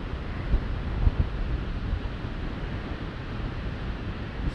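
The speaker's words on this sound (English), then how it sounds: "There's a lot of wind." Strong wind blows across a hillside slope where a model glider is flown, a continuous low rumbling roar buffeting the microphone with a few heavier gusts, loud and steady throughout, with no talk.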